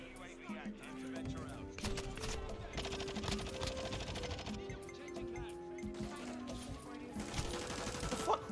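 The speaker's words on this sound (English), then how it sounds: "there's still 100 bullets going into the building" Heavy gunfire rattles in a video game, a sustained flurry of rapid shots that could be bullets striking a building, fairly loud and continuous, with a voice talking over it.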